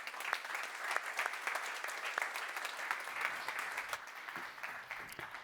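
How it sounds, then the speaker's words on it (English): A conference audience at Neos Con 2024 claps for a speaker coming on stage, a brisk, fairly soft patter of many separate hand claps that carries on steadily from start to finish. "So please give a warm round of applause,"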